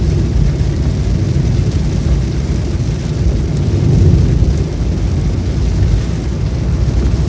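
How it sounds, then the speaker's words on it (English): Heavy rain pours steadily during a drive through Nagarhole National Park, a dense, loud, continuous roar with low rumbling like distant thunder mixed in, no breaks from start to finish. "It started raining a little heavily."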